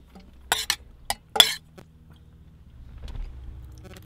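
A child's small saucepan of pasta and dishes clink inside a car on a road trip: a few sharp close clinks in quick succession, then a low, steady road rumble.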